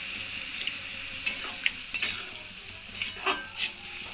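Banana flower curry sizzling in a pan just after water is added, with a utensil stirring and scraping in scattered clicks and scrapes over a steady close simmer, no talk.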